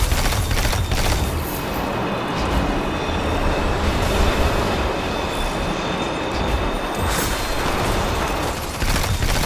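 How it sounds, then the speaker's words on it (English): A train rushes past in Destiny 2 Beyond Light, a loud, continuous rumble of rail wheels with metallic squeal, close and steady throughout. "Did I just get hit by a train?"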